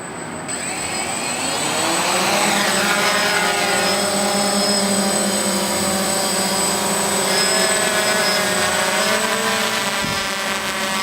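An aircraft takes off near the Grand Canyon, its engine whining and droning loudly and steadily with rising and shifting tones for the whole stretch, with no talking.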